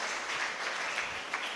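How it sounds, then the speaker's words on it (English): Audience applause for a student called forward at a civil engineering event, a steady diffuse wash of many hands clapping at moderate volume throughout the short stretch. "Big round of applause."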